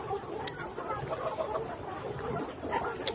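Fully vaccinated layer hens on a poultry farm give short, scattered clucks and calls over a steady barnyard din, fairly close.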